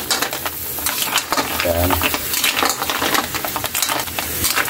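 Lemongrass sizzles and gets stirred in a hot pan while cooking ginataang lukan, a dense, continuous crackle with rapid scraping strokes and a brief spoken word over it.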